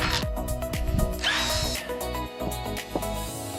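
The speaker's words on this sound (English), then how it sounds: "So we're going to put some more screws in these rafters." A power drill drives screws into wooden rafters during a small house build. Several short, close whirring bursts stop and start, with some clatter between them and no clear talk.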